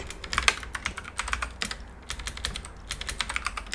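Rapid typing on a computer keyboard, close and fairly loud, with irregular bursts of clicky keystrokes running steadily throughout and no voices.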